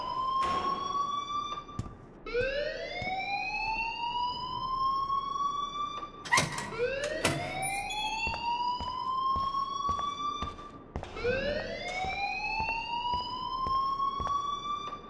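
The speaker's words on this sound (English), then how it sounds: "please turn off that alarm since that's your job" An alarm inside a school in the game Life is Strange wails on without a break, each tone sweeping upward and then holding steady, repeating about every four seconds and loud against a faint background.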